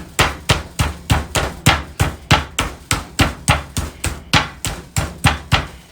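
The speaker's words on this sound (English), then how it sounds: "hammer it so it's pretty much the same size and cooks evenly on the grill" Chicken breast being pounded flat with a hammer for grilling: a steady run of about eighteen firm, evenly spaced thuds, close and loud, with nobody talking.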